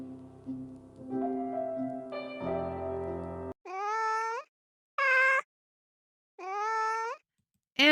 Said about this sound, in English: And a kitty. I also got to say hi to this cutie.